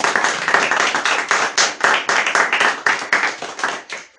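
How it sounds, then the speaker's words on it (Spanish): A church congregation claps steadily in praise, a dense, loud wash of many hands applauding together with irregular bursts, filling the room without any speech over it. "Y le damos un aplauso al Señor porque Él vive y reina y Él se lo merece."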